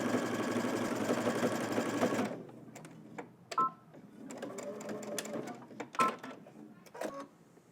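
Sewing machine stitching a 5/8-inch seam allowance on a garment, a fast, loud whirring run for about two seconds that stops abruptly, followed by quiet clicks and handling sounds.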